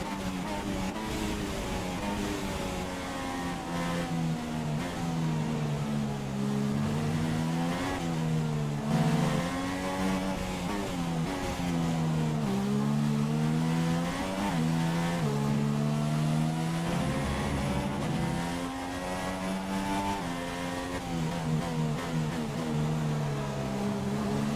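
Race car engines in the F1 2016 video game at the Chinese Grand Prix, a loud continuous high-pitched whine that rises and falls with shifts as the car accelerates and brakes, with other cars close by.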